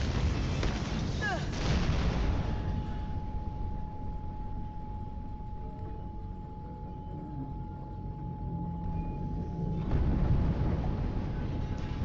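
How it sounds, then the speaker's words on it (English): A big explosion in Mirror's Edge Catalyst: a loud, heavy boom opens, then a long rumbling decay under a thin steady tone, and a second swell of blast noise rises near the end. "Big explosion over here!"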